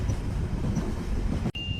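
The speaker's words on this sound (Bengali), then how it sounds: "ঠিক দুপুর 1টা বাজে, সময় মতো ট্রেন ছেড়ে দিল।" An animated train rumbles along the rails at speed, a close, continuous low roar that cuts off abruptly near the end.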